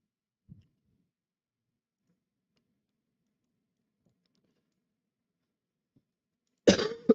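A person coughs once, loudly and close by, after a long stretch of near silence broken only by a faint tap.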